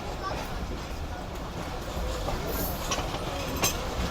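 Jaffer Express train hauled by a Chinese locomotive coming into platform 5, a quiet steady rumble of rolling carriages with light clatter and brief wheel squeals, heard from on board.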